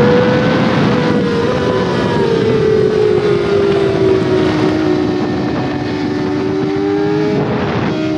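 A racing motorcycle roars steadily along a track, the engine note high and continuous with gradual pitch shifts as it holds a line, loud and close throughout with no talk.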